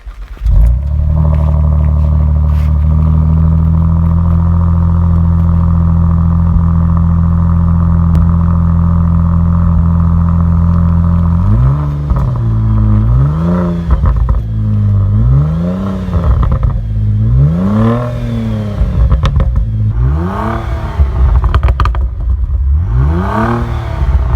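An Opel Insignia OPC 2.8 V6 turbo with an MG Motorsport exhaust idles with a deep, steady drone, then is revved repeatedly in sharp bursts that rise and fall, loud and close.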